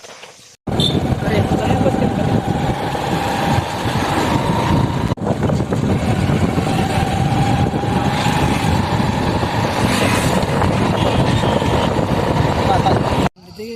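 A motorcycle engine runs steadily and close by throughout, with a constant rumble and some wind noise while the rider sets off from a hostel, and voices talk over it.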